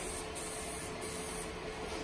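An airbrush sprays fall camouflage paint onto First Strike T9.1 and FSC model tanks, a steady close hiss running without a break and unaccompanied by talk.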